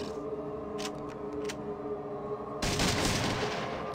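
Gunfire in Fallout 2, a few faint crackling pops over a humming background, then a loud broad blast that holds as dense, sustained noise.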